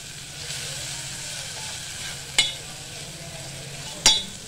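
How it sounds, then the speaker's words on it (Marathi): Turmeric and asafoetida spices sizzle and fry in hot oil for a dal tempering, a steady close sizzle with a spoon stirring and two sharp metallic clinks against the pan, no talking. "आता आपण छानपैकी परतून घेतोय"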